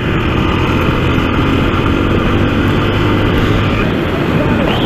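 A Yamaha Fazer 2020 and a Honda Twister motorcycle accelerate side by side on a road, their engines a loud, continuous, rumbling drone with constant wind noise, very close and steady throughout.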